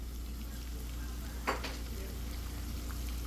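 Flour going into a hot skillet to start a roux for gravy, a steady close sizzle with one brief scrape or stir partway through, fairly quiet and unbroken by talk.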